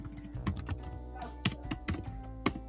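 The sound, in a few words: typing Python else statement on computer keyboard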